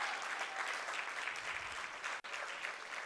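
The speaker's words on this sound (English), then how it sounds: "everyone give a warm round of applause to Ian Dodd" An audience at a Sunday Assembly gathering in Los Angeles claps warmly, a sustained, even round of applause filling the room, with a brief dip near the end and faint voices underneath.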